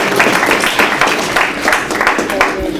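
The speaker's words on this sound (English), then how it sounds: "Let's give him a round of applause." An audience claps steadily in a round of applause at a high school letter-of-intent signing event, with a dense continuous patter and some voices mixed in throughout.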